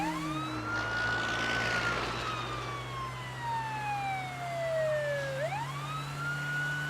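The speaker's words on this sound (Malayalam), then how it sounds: "ആംബുലൻസ് വരുന്ന കണ്ടില്ലേ?" An ambulance siren wails through repeated rising and falling pitch sweeps over a low engine rumble, staying fairly close and continuous throughout with no speech.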